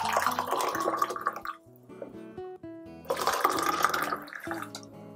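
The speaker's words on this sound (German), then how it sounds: "In die unterschiedlichen Gläser nach und nach eingießen" Tea is poured bit by bit into several glasses in two splashing bursts separated by a quieter gap, with thin tonal ringing from the glass as each fills, and no talk.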